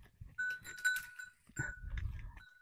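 Farm goats bleat in a few short, nasal calls close by, mixed with rustling and low rumbling movement from the herd.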